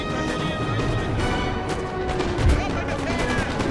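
Musket volleys in the Napoleon Total War battle game, a busy stretch of scattered cracking shots and battlefield din, with someone talking over it.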